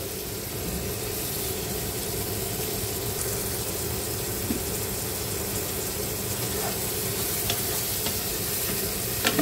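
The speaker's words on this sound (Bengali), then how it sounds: "মোটামুটি শুটকিটা ভাজা ভাজা হয়ে এসেছে" Dried fish (shutki) frying in a pan on an electric stove, a continuous close sizzle with faint stirring ticks now and then.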